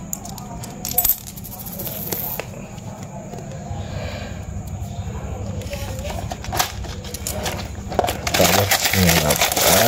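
A collection of foreign and local coins, including Indonesian Komodo coins, gets handled up close, with repeated metallic clinks and jingles scattered throughout and a brief louder rattle near the end.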